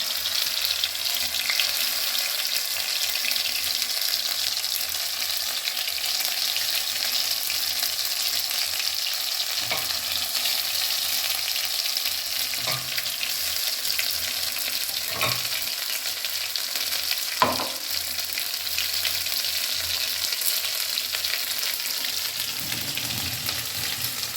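Cauliflower leaf paste fries in a pan with black cumin, making a steady, even sizzle with a faint watery hiss and a few soft clinks, continuous and without voices.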